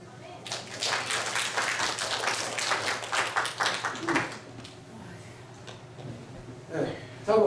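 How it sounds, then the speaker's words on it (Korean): Church congregation clapping during a healing service, a burst of dense applause that fades after about four seconds, followed by quieter room sounds and a short voice near the end. "할렐루야. 박수."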